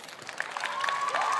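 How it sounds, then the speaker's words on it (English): An audience bursts into applause with some cheering at the close of a calculus talk, a brief steady patter of clapping that swells slightly, with a thin rising whistle near the end. "Let's give another round of applause."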